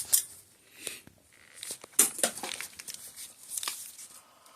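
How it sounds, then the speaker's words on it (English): Close crinkly tearing and rustling as a pull tab is ripped off the packaging of a bike part during a Cannondale Trail 6 mountain bike rebuild, a quick run of sharp plastic crackles and snaps. "Rip the pull tab."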